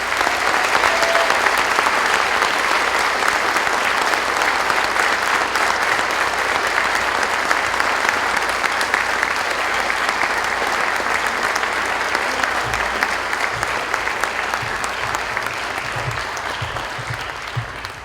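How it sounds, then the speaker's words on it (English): Applause for award recipients and their families at an evening medal ceremony, a dense and sustained ovation from a large crowd that holds steady throughout and fades slightly at the end. "I'd like to do a round of applause for all the recipients and their families."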